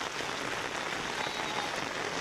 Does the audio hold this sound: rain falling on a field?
yes